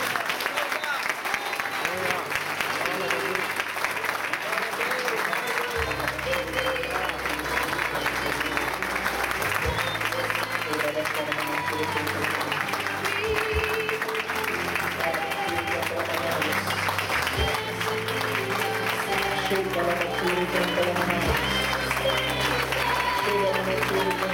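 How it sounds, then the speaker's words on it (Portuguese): Standing church congregation applauding loudly during a Portuguese-language consecration gathering, a sustained roar of clapping that runs throughout under music and raised voices, dense and close from start to finish. "Vamos aplaudir bem forte ao Senhor Jesus."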